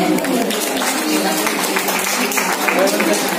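Audience applause greeting a film producer at a community stage event, a dense steady wash of many hands clapping that fills the whole stretch at moderate loudness with no pauses.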